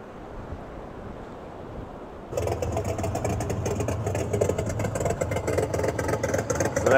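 Simulated engine sound played through a speaker on a custom EZGO golf cart built with a 1923 Ford T-Bucket body; after a quiet, windy start, a steady idling rumble with a rapid pulsing texture begins and keeps going, with no talking.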